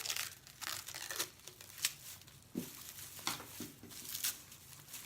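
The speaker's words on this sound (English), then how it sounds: "Just rip off the extra tissue paper." Tissue paper is torn and crinkled off a flower bouquet, a quiet, close series of papery rustles and rips in irregular bursts.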